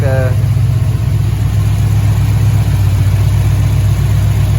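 A Chevrolet Impala SS engine idles steadily and loudly up close, its low rumble surging up and down slightly in pitch, with a brief voice at the very start.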